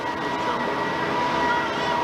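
Pikes Peak cog railway train moving downhill, a steady loud rumble of wheels and machinery filling the whole stretch with constant mechanical drone and no clear breaks.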